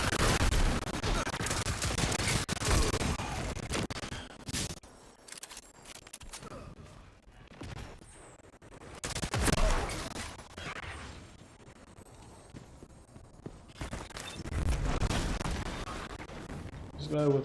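Gunfire from a shotgun in the shooter game Destiny, blasts at a corner amid a busy firefight, broadband bursts recurring through the stretch under game noise and some talk.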